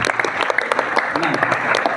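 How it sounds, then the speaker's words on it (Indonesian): Steady applause from a crowd, dense clapping that fills the whole stretch at a fairly loud, even level. "Tepuk tangan untuk pertanyaannya."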